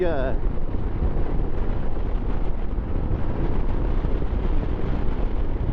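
Steady, heavy wind roar buffeting the microphone while riding a Royal Enfield Himalayan 411 motorcycle, a constant low rumble with a brief engine-like whine at the start.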